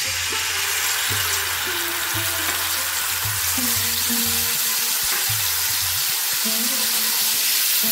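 Soaked tamarind water sizzling loudly in a hot mustard-seed tempering, a steady broadband hiss throughout with a spoon scraping and stirring the pan in repeated strokes.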